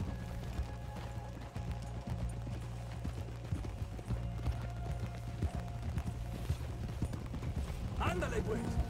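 Steady clip-clop of horse hooves runs throughout, rhythmic and close, around thoroughbreds at a manor in Red Dead Redemption 2, with voices talking over the riding and a low background hum.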